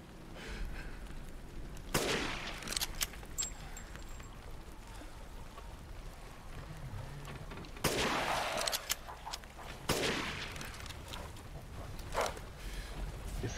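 Gunshots in Resident Evil Village on PS5, several sharp, fairly loud reports spaced seconds apart over a low rumbling game ambience.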